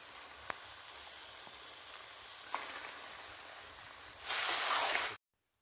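Chicken pieces dropped into hot spiced masala in a pan, cooked outdoors in a garden, giving a steady close sizzle that swells into a louder hiss near the end before cutting off.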